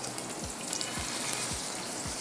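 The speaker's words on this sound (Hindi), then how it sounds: "ये फ्राई हो रहे हैं" Burger patties for mini bun kebabs fry in a pan with a steady close sizzle and faint crackle, with a few soft low thumps spaced through it and no voices.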